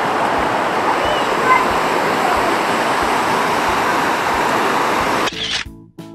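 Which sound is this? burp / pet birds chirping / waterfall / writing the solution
waterfall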